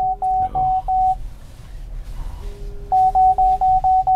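Repeated electronic beeps from an MG4 EV's parking sensor in quick regular bursts, pausing briefly and then resuming, with a faint low hum and some background noise.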